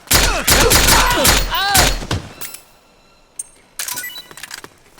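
Gunfire in the Metal Gear Solid 4 video game, South America act: dense bursts of automatic fire crackle through the first half amid shouted voices and game music, then scattered shots return near the end.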